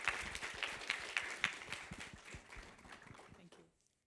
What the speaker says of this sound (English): Why don't we give them a round of applause?